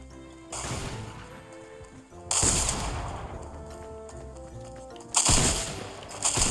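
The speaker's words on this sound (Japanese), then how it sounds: "ただ銃声の音はさっきから聞こえるけど、どこから来るかが問題ってわけだ。" Gunfire in Fortnite, with three bursts of loud, fast shots, each sustained for a couple of seconds and separated by quieter gaps.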